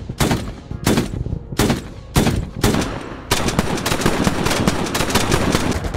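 A BMP-1 in the PC game Gunner HEAT PC fires VOG-17M HEDP rounds: several loud separate blasts, then a sustained rapid burst of gunfire, close and heavy.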